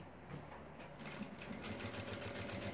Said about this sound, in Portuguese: vou passar uma costura em cada ponta pra fechar esse plástico